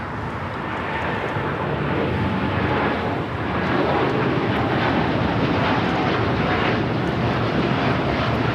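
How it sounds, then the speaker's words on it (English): A Boeing 787-9 Dreamliner on its takeoff roll at LAX gives a loud, steady jet-engine roar that holds and swells slightly without a break. "787-9 Dreamliner, now rolling."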